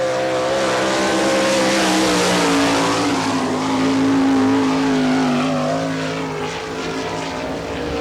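A sprint race car on a qualifying lap at Barberville speedway in Florida, its engine droning loud and steady with a rising then falling pitch as it passes, no voices over it.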